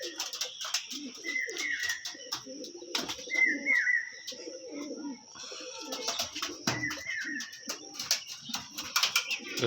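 Two male Kalsira pigeons coo repeatedly in low, throaty bursts, mixed with brief higher chirps and small clicks and rustles, all fairly close.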